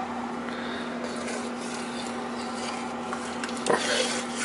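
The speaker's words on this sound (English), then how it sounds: "I've been stirring it" A utensil scrapes and stirs through simmering chili in a pot, soft continuous clatter close by with a couple of sharper knocks near the end, a steady low hum behind.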